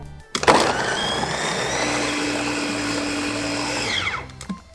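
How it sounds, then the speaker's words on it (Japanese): A kitchen blender whirs loudly and steadily for a few seconds blending apple, switching on abruptly and winding down at the end. "じゃあ改めてミキサースタートオン。"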